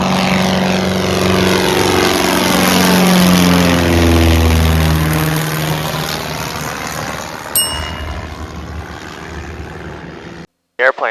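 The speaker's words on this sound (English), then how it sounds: "Wow, she really takes off quicker without Mark in here." Light single-engine propeller airplane on a student pilot's first solo, climbing out after takeoff: a loud, steady engine drone with pitched harmonics that gradually shift, continuous throughout and then cutting off abruptly near the end.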